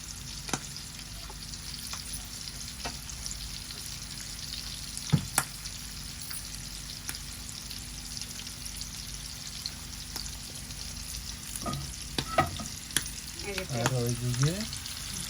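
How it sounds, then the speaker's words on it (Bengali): Prawns frying in oil on a home stove, a faint, steady sizzle with scattered small pops and clicks over a long stretch; a brief voice comes in near the end. "মাছ ভাজি হইতেছে"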